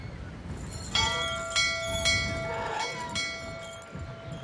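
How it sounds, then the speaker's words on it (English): A rusty old bell rings in the Syberia video game, giving several metallic clangs roughly every half second. Its ringing tones hang over a low rumbling background. "Wow, that is a rusty old bell."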